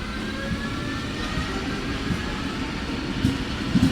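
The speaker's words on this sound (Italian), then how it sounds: "Il treno regionale in Trenitalia" A Trenitalia regional train at Venezia Mestre station gives a steady rumbling rail roar, continuous and fairly loud, with a few sharp clanks near the end and no voices.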